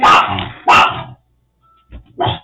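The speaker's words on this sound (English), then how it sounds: "pardon me. That's my dog." A dog barks loudly and close by in a home craft workspace: two sharp, full barks, a brief silence, then a couple of shorter yips.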